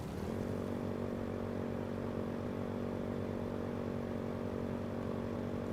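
Steady motorcycle engine drone from the Code Vein 2 video game, a continuous low harmonic hum that holds at an even, fairly loud level throughout with no voices.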